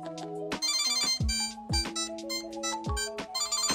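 An Apple AirTag plays its ringtone alert, a bright, loud run of repeating electronic chime tones in short rising phrases with brief gaps, close by and without any talk.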